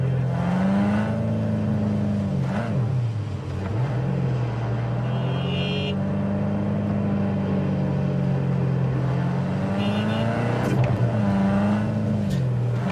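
A car engine in the video game Cyberpunk 2077 drones steadily, then revs up and down several times, close and loud throughout with no talking.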